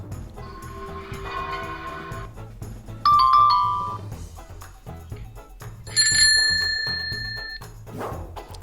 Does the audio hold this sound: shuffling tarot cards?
no